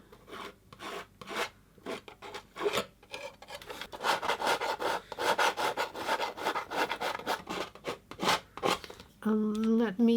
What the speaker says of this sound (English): let's try some drama with palette knife